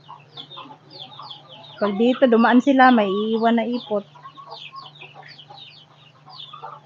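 Chickens cluck and squawk around a house where chicks also roam; a loud burst of fowl calls rises in the middle over steady low background hum, while a person talks nearby throughout.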